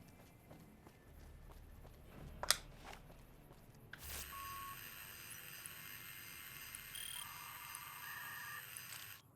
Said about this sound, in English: little modem sound it makes whenever it calls